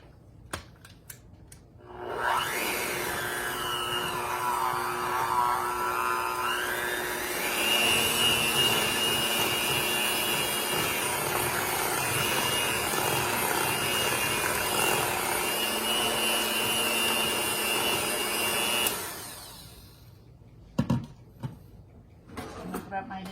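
An electric mixer whirs steadily for about sixteen seconds as it beats a filling with added sugar, loud and close, its pitch shifting slightly partway through before it cuts off into quiet kitchen clatter.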